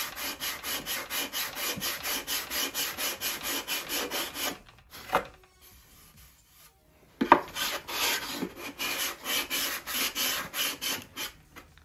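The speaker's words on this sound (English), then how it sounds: "So I'm just gonna keep on sanding there." Rhythmic back-and-forth sanding strokes on wood during the build of a Top Flite 60-size P-40E Warhawk model airplane, close and steady, pausing midway for a few seconds before resuming.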